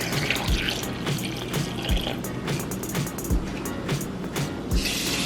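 Water pours steadily into a blender jar for plantain, peanut and sweet potato porridge, a close, continuous splashing fill with a few soft thumps along the way and no speech.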